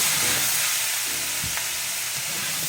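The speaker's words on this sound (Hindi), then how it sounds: "अब हम इसमें डाल देंगे सारी की सारी ये वेजी, जितनी वेजिटेबल है ये हम सारी की सारी 1 शॉट।" Mixed vegetables stir-frying on high heat in a pan for a chicken kebab dish, a dense loud hiss of sizzling oil running continuously, with a brief clatter of stirring partway through.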